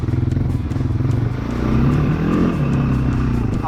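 Honda 300 4x4 ATV engine pulling up a hill, a close, loud, pulsing four-stroke chug that steadies into a strained drone, with rattling clatter from the machine.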